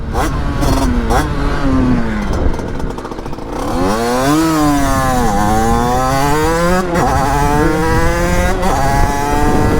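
A 50cc Italkit AM6 moped engine revs loudly and close up, its pitch rising and falling in repeated high-rpm sweeps with a buzzing two-stroke tone, and a voice briefly audible beneath it.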